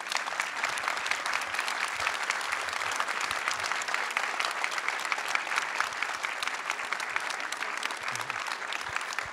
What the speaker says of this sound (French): des tonnerres d'applaudissements pour Isabelle Nanty